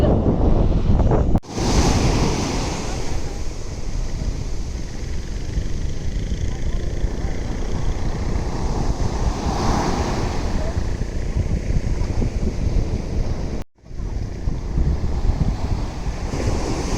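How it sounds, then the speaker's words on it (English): Sea waves crash and roll onto a beach near Auroville, Pondicherry, a loud continuous surf with heavy wind buffeting the microphone, cut by two brief dropouts. "these waves look beautiful yet fucking scary, man"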